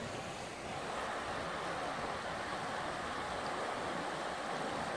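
River water flowing past a riverside campsite, a steady broadband rush without breaks, soft and constant with no talking.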